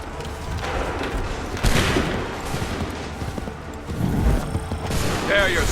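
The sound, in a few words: musket volley fire in Assassin's Creed III, video game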